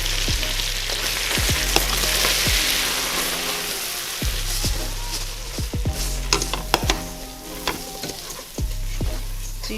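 Breadcrumbs toasting in melted butter in a pan for Thanksgiving mac and cheese, a continuous close sizzle punctuated by sharp clicks and scrapes of stirring, with a low hum underneath.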